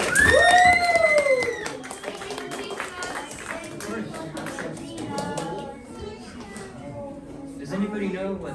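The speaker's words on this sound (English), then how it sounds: "Everyone, round of applause for everyone." A crowd applauds at a Santa Claus North Pole experience in Flagstaff, a round of clapping from many hands that carries on under a voice and a child's high-pitched cry.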